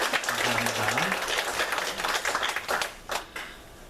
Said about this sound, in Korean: 다시 한번 큰 박수로 격려하도록 하겠습니다.